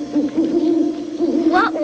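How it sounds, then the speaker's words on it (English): An owl hoots in a low, wavering tone that repeats steadily, fairly close and clear against a quiet background. "That's a bird called an owl."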